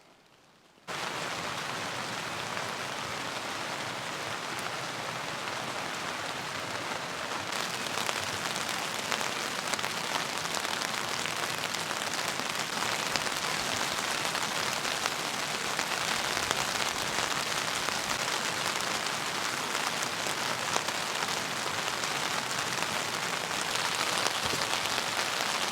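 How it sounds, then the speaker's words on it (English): Steady, dense rain patters on a large tent during car camping beside a truck, a loud even hiss of drops that starts abruptly and continues unbroken throughout with no voices. "I'm just going to relax with my beer, listen to the rain."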